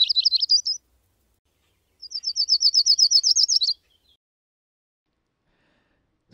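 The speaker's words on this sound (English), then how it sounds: "The common yellowthroat is a migratory songbird that returns around April. Its song remains unmistakable despite regional variations." Common yellowthroat song on Vancouver Island: two bursts of rapid, rolling, repeated high notes, a short phrase followed by a longer one, clear and close against silence, with no voices.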